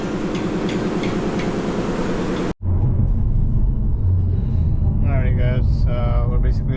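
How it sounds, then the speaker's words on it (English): A 2023 Hyundai Elantra N with a suspected failing turbo drives home on the road, first a steady engine drone, then after a brief cut a deep, constant cabin rumble with people talking over it. "We're basically on our way home now after working on the car in the shop."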